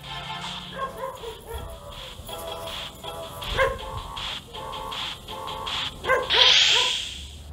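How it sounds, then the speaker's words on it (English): A dog barking repeatedly in the background, with yips and whimpers at an irregular rhythm, moderately loud, no speech. "the dog barks in the background"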